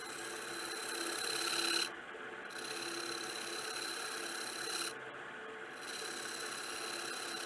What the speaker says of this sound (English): I'll use my little detail gouge to come in and get a nice crisp edge.